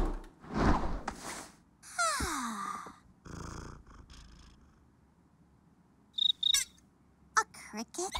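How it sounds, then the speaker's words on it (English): A cartoon cricket chirps at night in a few short, high-pitched trills, heard between other animated sound effects and a purring noise; the chirps are brief and fairly clear. "A cricket? Okay, just ignore it. Is that a cricket? Yep."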